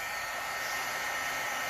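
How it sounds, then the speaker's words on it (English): An embossing heat tool blows a steady, even rush of hot air, a short continuous whoosh heard up close and fairly quiet, with no voices. "I have an embossing gun from Stampin' Up that I bought years and years ago."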